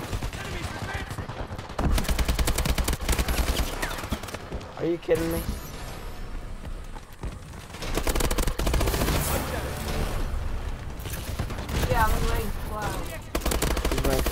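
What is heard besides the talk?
explosions and gunfire in Call of Duty: Advanced Warfare video game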